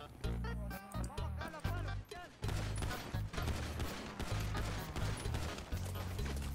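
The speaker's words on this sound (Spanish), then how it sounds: "¡Disparo, oficial!" Rapid gunfire in a GTA roleplay police shootout, dense bursts of shots cracking loudly and repeatedly, with shouted voices mixed in among the volleys.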